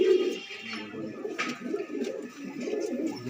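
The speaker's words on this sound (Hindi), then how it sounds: "ये कबूतरी है" A female pigeon of the Madrasi breed coos softly at close range, low throaty murmurs repeating in an uneven rhythm with faint background noise.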